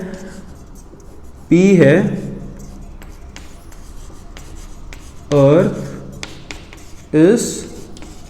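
Marker strokes on a board during a Hindi-language maths lesson on mathematical logic, heard as a few short squeaky bursts between stretches of steady lecturing speech.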